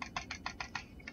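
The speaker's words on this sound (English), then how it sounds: "This is me clicking." A computer mouse clicks about seven times in quick, evenly spaced succession, crisp and close but quiet, with no speech.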